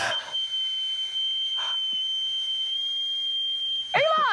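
A man whistles one thin, steady note that holds for over three seconds before breaking off into a brief wavering slide.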